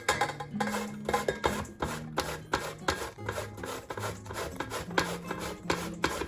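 Zucchini being grated for pancakes makes a rhythmic rasping scrape in repeated strokes, close and fairly quiet, with faint tonal hum underneath and no talk.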